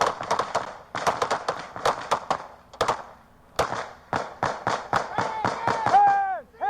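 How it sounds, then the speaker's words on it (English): A police officer fires a rapid string of gunshots, many sharp cracks in close bursts with short pauses between, a few distant-sounding pops mixed in and a rising tone near the end. "Listen to this cop shoot off like 10 more rounds."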